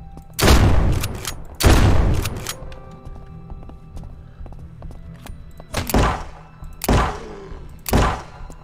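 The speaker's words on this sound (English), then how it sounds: "Two shots." Heavy gunshots fired in the video game Surroundead: two loud booming shots close together, a quieter pause, then three more evenly spaced blasts, each ending in a short rumbling tail.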